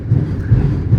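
Deep low rumble of a train rolling on rails, with a soft rhythmic thudding of wheels over joints, loud and close.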